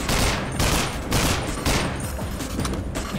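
Rapid automatic gunfire from the video game Wilson Chronicles, several dense bursts repeating about every half second at moderate loudness, with no talking over it.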